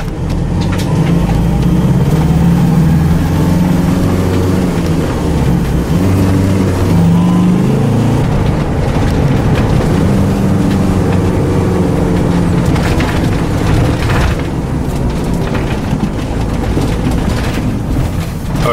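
A RAM ProMaster van with the 3.0L engine drives along, a loud, continuous engine drone and road rumble rising and falling with gear and speed changes, close to the cabin with no talk.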